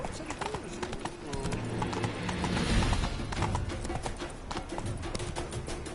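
Roach the horse in The Witcher 3 clip-clops along at a steady walking rhythm, hoofbeats close and mixed with ambient game sounds and a brief whinny-like tone.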